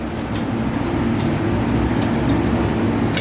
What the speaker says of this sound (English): Does have stock pipes, but the baffles have been taken out.